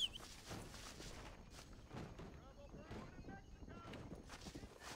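Horse walking in Red Dead Redemption, its hooves clopping in an even, unhurried rhythm at close range, fairly soft and steady for the whole stretch.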